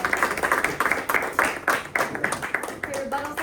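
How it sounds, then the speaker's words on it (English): A debate audience gives a short round of applause for the rebuttal speakers, scattered uneven clapping lasting a few seconds. "Round of applause for rebuttals, please."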